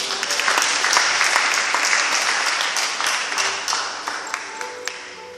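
A church congregation at a French-language sermon on spiritual weapons breaks into loud, dense applause, sustained throughout and thinning slightly toward the end into a few scattered claps.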